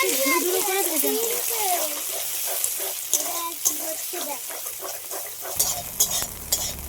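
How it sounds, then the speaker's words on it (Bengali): Eggs scrambled and fried in a pan of oil, sizzling steadily at close range with stirring and scraping sounds; a voice talks quietly over the first half, and a few sharper clinks come toward the end. "ডিমগুলো একটু ধুরো ধুরো করে ভেজে নেব।"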